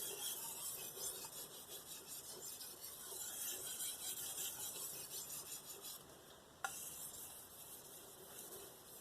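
Yaxell Mon VG-10 chef's knife drawn across a Naniwa Professional whetstone, steady close gritty rasping strokes in a repeating rhythm, with a brief pause and a small click midway before the grinding resumes.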